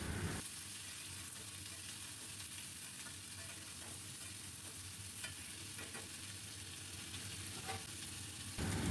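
Long beans, potato and pumpkin fry in a pan, giving a soft, continuous sizzle with faint stirring scrapes throughout, fairly quiet and without voices.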